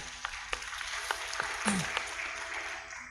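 Light applause for motorcyclists at a Gen Z election Q&A event in South Kalimantan, scattered claps from a modest audience heard from a distance over room noise.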